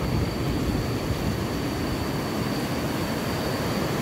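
Strong, rushing water from the Fa Ba waterfall, where muddy, cloudy forest runoff pours down in a steady, loud, close roar that never lets up.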